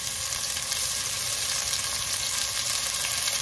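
Food for cabbage borscht sizzles and fries in a pan, a loud, steady crackling hiss that continues without pause and without talk.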